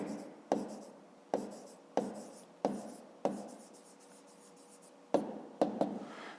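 Pen writing by hand on paper, with short scratchy strokes in quick bursts, some separated by pauses and one longer stroke in the middle, close and fairly quiet.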